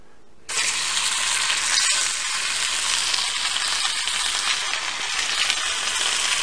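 Steak seasoned with Montreal steak spice hits a hot cast iron pan and bursts into a loud, steady sizzle that holds close and constant with no talking.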